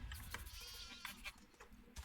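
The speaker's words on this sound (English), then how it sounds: "this fold will hold both sheep and goats, so you can do both" Sheep and goats bleat faintly in a fold in the video game Medieval Dynasty, several short wavering calls spread across the moment at low volume.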